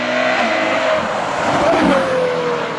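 A Ferrari 812 GTS fitted with a Novitec exhaust drives by loud and close, its V12 note rising and falling in pitch as it revs and accelerates, with a rough exhaust roar throughout.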